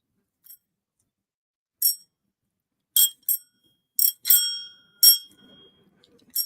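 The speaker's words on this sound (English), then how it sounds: "I bought a bicycle bell." A bicycle bell dings about eight times in short, crisp, separate rings, some in quick pairs, loud and close in an otherwise quiet room.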